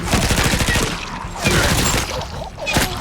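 Rapid SMG gunfire from the video game Dying Light: The Beast, loud close bursts of automatic shots in three clusters with brief gaps between them.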